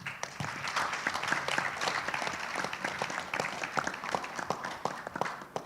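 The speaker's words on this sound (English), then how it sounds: "So let's give each other a big round of applause." Audience at a programme closing event applauds together, a steady wash of many hands clapping with distinct sharp claps standing out, moderately distant and continuous.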